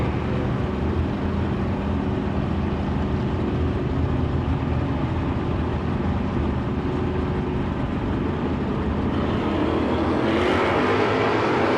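Two drag cars, a Malibu and an Oldsmobile, race side by side on a strip, their loud steady engine roar filling the air with no break, growing slightly brighter toward the end.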